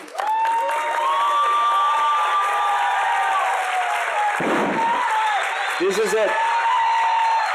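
An audience at the 2022 Village Academy graduation cheers and applauds for the faculty, giving a steady wash of crowd noise with whoops and raised voices throughout, while a speaker talks over it.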